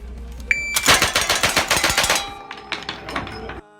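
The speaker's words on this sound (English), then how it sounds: "Just how fast could you shoot this firearm?" A .357 Magnum rifle fires at world-record speed, a fast, loud string of closely spaced shots followed by a few more scattered shots before it stops.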